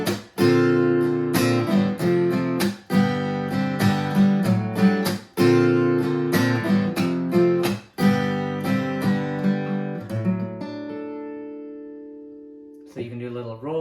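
Acoustic guitar playing the closing chords of a song, loud strummed chords in a steady rhythm that slow toward the end and ring out alone, then a final soft strum.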